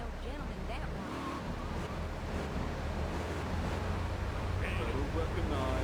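A car drives in GTA 3 Definitive Edition: a steady low engine drone with windy road noise runs throughout, under voices talking.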